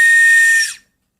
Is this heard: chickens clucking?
no